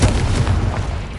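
Confringo explosive spell in the Hogwarts Legacy video game going off as a loud, dense booming blast that rumbles for over a second, close and alone.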